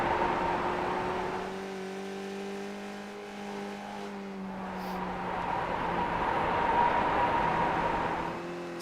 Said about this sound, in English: you can really hear the tire scrub on these cars